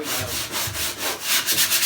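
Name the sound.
sanding a boat interior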